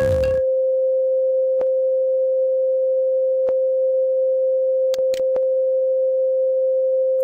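A pure sine wave test tone hums steadily at a single mid pitch, loud and unwavering, with a few brief clicks breaking in along the way.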